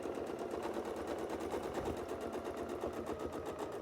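A sewing machine stitches a quilted wreath design, running steadily and fairly loud with a fast, even needle rhythm for the whole stretch and no talk.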